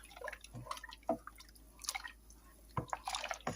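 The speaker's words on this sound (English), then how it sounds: "I'm just going to pour 1, 2, 3, 4, maybe about 4 tablespoons of browning." Browning poured by the tablespoon into a spice bun mixture, giving soft irregular drips and liquid splashes at close range with brief gaps between pours.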